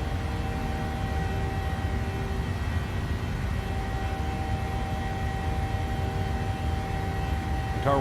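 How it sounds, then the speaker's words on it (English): Steady broadband roar of a PMDG 737-800 airliner's engines at full takeoff thrust in Microsoft Flight Simulator, a loud continuous rush with faint tonal whine running evenly throughout, no voices. "Tower wants immediate takeoff, you go balls to the wall."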